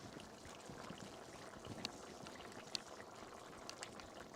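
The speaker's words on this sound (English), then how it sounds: "See, we have enough water cooking." Water simmering in a pot of vegetable korma on a stove over medium heat, a soft steady bubbling and hiss with a couple of faint clicks, fairly quiet and without speech.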